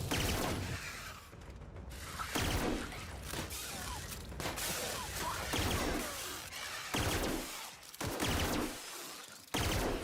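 Burst-fire gun in the video game The Outer Worlds, shooting repeated short bursts of sharp, loud shots separated by brief pauses, with game sounds in between.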